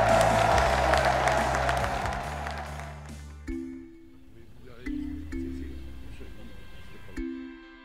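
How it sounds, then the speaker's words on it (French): A crowd applauds and cheers loudly at the French cycling championship in Chantonnay, 2015, with the clapping fading after about three seconds. A voice speaks over the end, and a low musical tone plays in the background. "Oh, les applaudissements du public."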